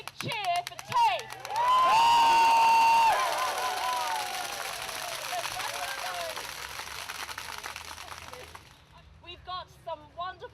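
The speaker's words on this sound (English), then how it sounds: "Can I hear a big cheer for TAFE?" A crowd at a National TAFE Day event in South Australia cheers and claps loudly for several seconds with whoops and whistles, the noise fading out before a voice starts talking.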